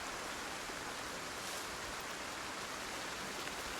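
Steady, even rain hisses throughout a wooded scene in the video game Project Zomboid, a constant broadband wash with no pauses and no voices.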